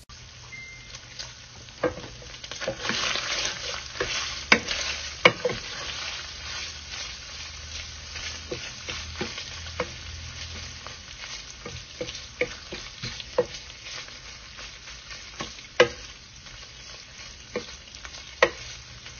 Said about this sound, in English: The bacon gets cooked until it's golden brown.